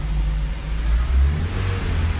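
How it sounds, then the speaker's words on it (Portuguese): A Renault Sandero 1.0 engine runs close by with a steady, low rumble and slight swells in revs, with no voices over it. "Sandero funcionando, ó. Vou engatar as marchas aqui para mostrar para vocês"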